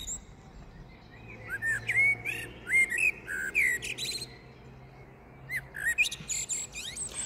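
A blackbird outdoors during a thunderstorm gives a run of fluting whistles and chirps in two loose phrases separated by a pause, moderately close over a low, steady background hum.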